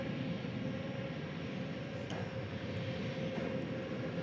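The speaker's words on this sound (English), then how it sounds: "We've got American Flight 2991 and Airbus A321neo headed out" An American Airlines Airbus A321neo departing an airport gives a faint, distant, steady engine drone with a sustained tonal hum.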